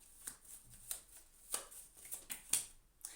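A tarot card pulled from a deck: soft papery rustles and light slides, repeated in quick uneven strokes close to the mic, quiet and with no talking.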